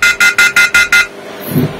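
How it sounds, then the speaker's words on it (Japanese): A wireless mini security camera's alarm gives six loud, rapid electronic beeps in an even rhythm, then falls quiet. "結構ですね、警報強くて、僕自身もこの警報を聞いてですね、結構驚いたので"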